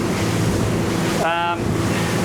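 A Quarken 35 GT boat pounds through waves, with steady rushing water and wind noise throughout, and a brief voice rising over the spray midway.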